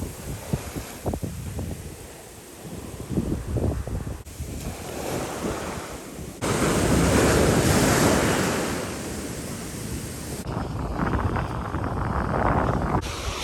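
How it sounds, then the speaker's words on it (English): Ocean surf breaking steadily on the beach at Fernandina Beach, Florida, a continuous roar of waves that swells louder midway, with wind buffeting the microphone throughout. "Look at these waves, Katie."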